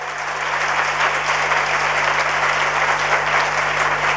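Sustained applause from an audience at a Jain community gathering in Raipur, Chhattisgarh, steady dense clapping throughout at moderate loudness with a constant low hum underneath and no voices.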